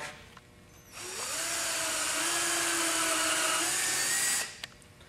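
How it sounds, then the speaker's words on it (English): A power drill whines up to a steady high pitch drilling a pilot hole in metal, runs for about three seconds, then stops abruptly, close by with faint background noise. "I like to use any size drill bit to get a pilot hole for my jigsaw"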